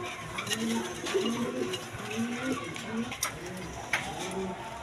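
Pigeons for sale, including males and Danish birds, coo in low repeated throaty phrases close by, mixed with faint flutters and a busy background where voices talk.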